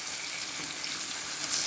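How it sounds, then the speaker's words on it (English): Prawns fry in a pan with a steady, bright hiss and sizzle, close and continuous, with no voices. "you want to fry your prawns before you start the entire process"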